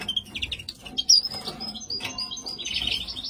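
Small caged birds, goldfinches and hybrids, chirping in quick high tweets and short trills, several birds calling over one another at close range with a steady murmur of cage noise beneath.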